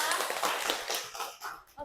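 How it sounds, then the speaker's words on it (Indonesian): A school class applauds a student, a short burst of steady scattered clapping from many hands that fades out toward the end. "Beri tepuk tangan buat Krista."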